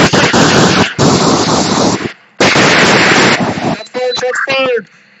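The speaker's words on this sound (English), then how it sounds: "Shots fired!" Gunfire in the Garry's Mod VR video game during a robbery scene: loud, rapid bursts of shots in two long volleys, followed by a voice shouting close by.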